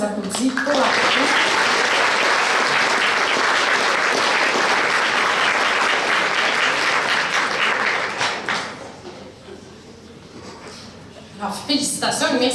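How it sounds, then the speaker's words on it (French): An audience applauds at a regional science fair final in Québec, with loud, dense clapping for about eight seconds that then thins out, and a voice is heard near the end. "Alors, on les applaudit pour la photo."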